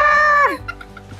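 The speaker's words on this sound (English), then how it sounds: "Oh no, chicken!" A chicken in a farm aviary gives a loud, close, drawn-out squawk that bends downward, followed by a few quick soft clucks.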